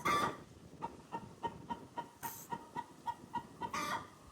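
Fifty-five young chicks on a farm in Ghana cluck and peep in a quick, regular series of short calls, close by and moderately loud, with no talking.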